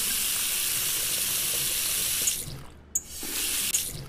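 Hot water streams steadily from a kitchen tap into a small pot, a loud close hiss that cuts off around midway, followed by a couple of brief bursts and a short resumption of flow.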